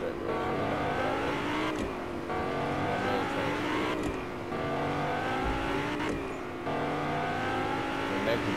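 The Whiplash car from the video game Fortnite drives with a continuous revving engine whine that rises and shifts pitch through gear changes, steady and loud, with a voice talking over it.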